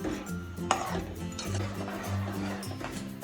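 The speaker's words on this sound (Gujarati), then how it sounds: "અને પછી આ રીતે એકદમ હલાવતા જવાનું છે" Bajra rotla mixture is stirred in a pan over a high flame, giving a steady soft scraping and sloshing with a few sharper knocks against the pan, close and moderately quiet.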